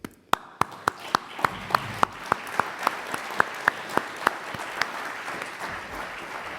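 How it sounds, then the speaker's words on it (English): An audience at a clinic celebration applauds itself, with crisp, evenly spaced claps keeping a steady beat over a softer background of crowd clapping. "I want to end this by having all of you applaud yourselves for what you have done"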